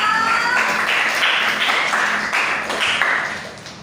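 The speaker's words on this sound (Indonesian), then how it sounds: "tepuk tangan dulu untuk kita semua" A school class breaks into applause, many hands clapping together in a dense, steady patter that fades toward the end, with no talk over it.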